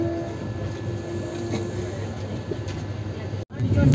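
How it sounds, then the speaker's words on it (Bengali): A passenger train pulls away from Belda station on the east coast line toward Puri, with a steady low rumble of wheels and carriage noise throughout, a brief dropout near the end, then rising loudness as it gathers speed. "বেলদা থেকে ট্রেন ছেড়ে দিল তার পরের স্টপেজের উদ্দেশ্যে।"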